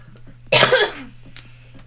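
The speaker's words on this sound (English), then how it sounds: "just cough everywhere" A single harsh cough bursts out indoors during a card game, loud and close, then trails off into quieter breathing and small sounds.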